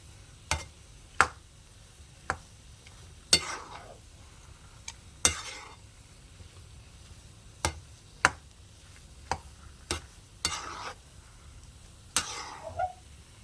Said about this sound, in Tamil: நல்லா கிளறணும். நல்லா ஒட்டாமல் வருது பாருங்கள்.